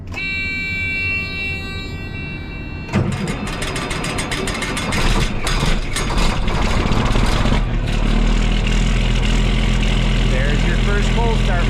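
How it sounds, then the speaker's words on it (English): A combine harvester engine cold-starts in the morning, first a high whine and then a loud catch about three seconds in. It settles into a steady, heavy idle rumble, with a voice talking over it. "First cold start for the morning."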